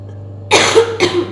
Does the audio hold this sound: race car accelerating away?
no